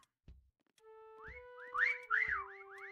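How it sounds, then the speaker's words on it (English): A few bright, sliding whistled notes from video game characters, with a tonal hum beneath, brief and clear, punctuated by soft low thumps like footsteps. "Everybody's whistling away,"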